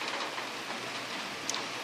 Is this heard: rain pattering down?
yes